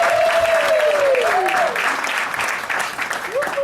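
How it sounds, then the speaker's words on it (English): Loud applause from a crowd, with a voice's drawn-out tones sliding over the clapping early on before the clapping continues. "Can we give them a massive round of applause?"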